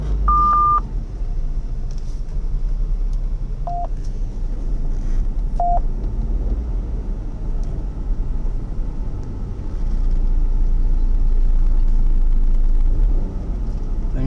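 A Renault Kwid Zen 1.0 (2020) cruises on a highway, giving a steady low road and engine rumble throughout, with a few short electronic beeps near the start.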